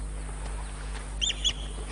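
A white-fronted plover calling near a riverbank in the wild, two short, high, sharp call notes in quick succession, fairly faint against a steady low background hum.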